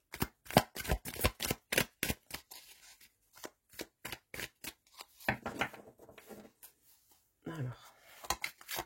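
Tarot cards shuffled by hand in quick rustling riffles and slaps, a dense run of crisp bursts, then a brief pause, then more shuffling in sparser bursts, close and fairly quiet.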